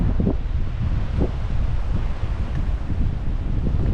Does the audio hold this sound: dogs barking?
no